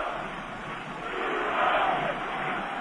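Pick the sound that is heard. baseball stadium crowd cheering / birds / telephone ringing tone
baseball stadium crowd cheering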